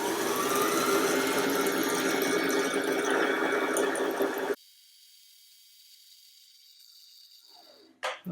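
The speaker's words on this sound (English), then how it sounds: "Put your foot on the pedal and help guide the thread onto the bobbin." A Brother LS14S sewing machine winds thread onto its bobbin with a loud, steady whir that stops abruptly partway through, leaving quiet room tone and a brief click near the end.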